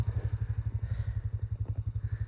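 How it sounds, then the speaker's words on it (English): A tractor engine idles close by on a ranch during a cattle sale day, a steady, rapid, throbbing chug with a faint rattle. "They heard the tractor."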